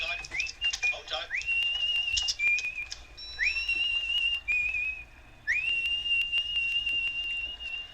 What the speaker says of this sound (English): the tune she's whistling is taken from the 1968 thriller Twisted Nerve